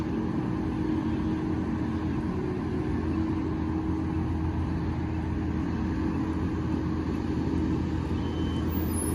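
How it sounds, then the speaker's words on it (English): Pace transit buses idle and run through the morning rush near a suburban rail line, a continuous loud low diesel rumble with steady road noise and no speech. "Yep, even the pace buses are running too."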